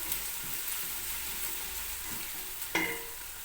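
Onion and garlic sautéing in a pan with butter make a continuous soft sizzle and frying hiss, with one sharp clink of a utensil near the end.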